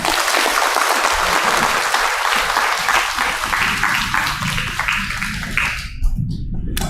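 An indoor audience applauds after a lecture, heard as dense, loud clapping that fills the room and then thins out toward the end. A voice briefly sounds over the fading claps.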